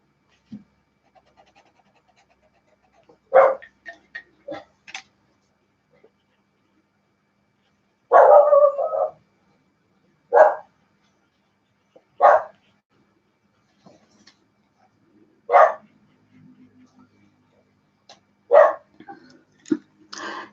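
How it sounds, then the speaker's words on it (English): A dog barks in short, separate bursts spread across the clip, with quiet gaps between them; a few softer yips and faint panting sounds fill the pauses. "He has no idea what he's barking at, guys, sorry. He's just having a bark."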